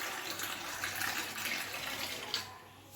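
Water pours steadily into a pot of curry cooking with pulses, a continuous gushing splash lasting about three seconds at close range, with no talking.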